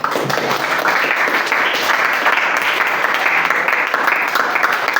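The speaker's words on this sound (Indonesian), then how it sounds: "Jadi tepuk tangan untuk kita semua." Applause from a classroom of students during a teaching practice lesson, a dense, steady wash of many hands clapping, loud and close, sustained without a break.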